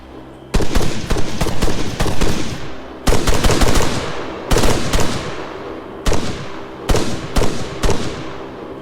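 Unsuppressed rifle gunfire in the Arma 3 video game, with several loud bursts of rapid automatic shots separated by short pauses, sharp cracks with trailing echo, no talking.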